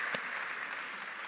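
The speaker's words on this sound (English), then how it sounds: "you deserve a round of applause for that" Brief burst of audience applause at a school district address, a steady crowd clapping at moderate volume for just over a second.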